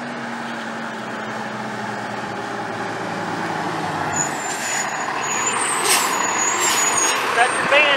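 A heavy fire truck rolls in at a structure fire response, its engine droning low before hissing air-brake bursts cut through near the end, with people talking around it.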